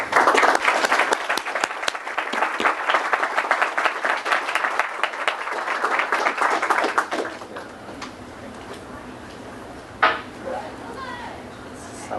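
An audience at Villanova University applauds warmly to welcome Arjia Rinpoche, with sustained, dense clapping for about seven seconds that then fades out, followed by a quiet room with one brief knock.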